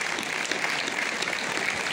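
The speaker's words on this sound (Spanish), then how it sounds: "yo os pido un fuerte aplauso" Applause from the audience at the Fiestas del Tabaco y el Pimiento in Jaraíz de la Vera, a soft, steady patter of many hands that carries on evenly without any voices.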